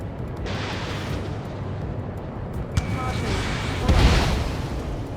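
Explosions destroy a radar vehicle in the combat flight game Ace Combat 7, with a steady engine roar rising into a loud booming blast near the end while radio voices talk over it.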